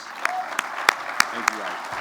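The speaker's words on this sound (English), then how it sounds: "please join me in recognizing all of these talented people with a well-deserved round of applause" A round of applause from a crowd at a building topping off ceremony, steady clapping with a few sharper claps standing out, heard briefly and fairly close with no talk over it.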